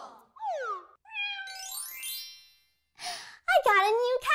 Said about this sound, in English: Hey, did I hear a cat?